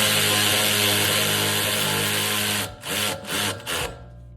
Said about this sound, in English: We're gonna put this ratchet in reverse, which will suck up the nut.